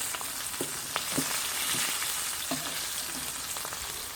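Herbs fry in seasoned oil, a steady bright sizzle with occasional spatters and stirring knocks, heard close and alone throughout.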